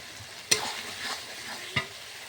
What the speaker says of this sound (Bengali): এবার আমি টমেটো কুচিটা দিয়ে দেবো।